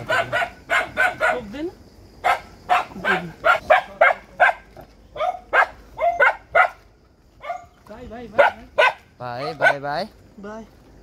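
Village dogs in rural Sikkim bark repeatedly in sharp, uneven bursts, some close and some farther off, while people talk in between.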